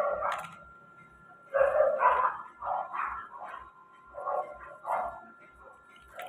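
Dogs bark and yelp in repeated bursts in a survival video game, the sound coming back in clusters of yaps against steady game tones, with faint talk mixed in.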